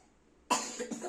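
A child's single short cough bursts out after a moment of quiet, close and fairly loud, with a small follow-up hack.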